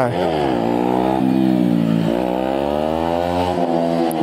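A Yamaha R125 125cc motorcycle engine revs loudly and steadily up close, its pitch climbing and dipping through several throttle blips, with voices talking over it.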